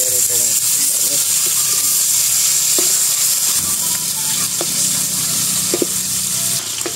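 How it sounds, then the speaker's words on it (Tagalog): Garlic, onion and fried pork sauté in a pan with a loud, steady sizzle and hiss, stirring scrapes breaking through now and then while a voice talks underneath. "Tapos natin magprito, magigisa na po tayo."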